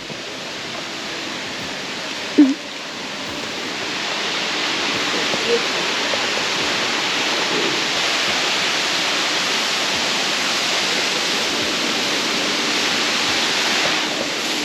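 Steady, broad roar of a waterfall on Koh Samui fills the whole clip, constant and close, with a brief thump near the start and faint voices barely poking through.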